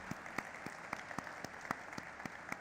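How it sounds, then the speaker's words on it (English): Faint applause at the Milky Mist Dairy Food listing ceremony, a soft distant wash of clapping with a few sharper individual claps standing out, quiet and steady throughout. "can we have a huge round of applause for all of our incredible partners?"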